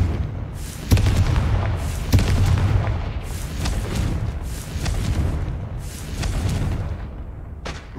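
Repeated Confringo fire-blast spell explosions in Hogwarts Legacy, a steady run of booming bursts with sharp cracks near 1 and 2 seconds over a dense, rumbling low roar, loud and close throughout.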